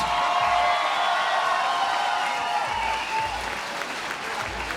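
A large crowd applauds steadily for two fighters after a combat-sports bout, dense clapping with some cheering mixed in, loud and sustained throughout.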